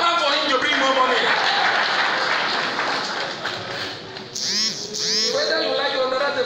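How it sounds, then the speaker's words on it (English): A crowd claps at an APC political rally in Akwa Ibom State, a loud, dense wash of hands mixed with voices and shouting, easing midway before a burst of high, sweeping whistle-like calls rises over it. "clap out for him to bring more money"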